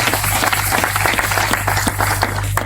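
A church congregation at a French-speaking worship service clapping and cheering together: dense, continuous applause with voices mixed in, loud and close throughout.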